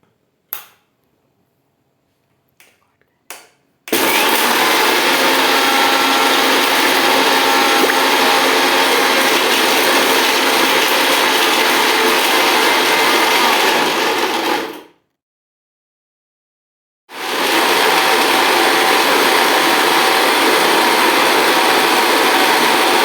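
A few sharp clicks, then a mixer grinder roars loudly and steadily for about ten seconds grinding chocolate biscuits, stops briefly, and starts grinding again.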